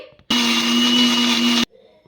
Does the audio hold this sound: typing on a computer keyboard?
no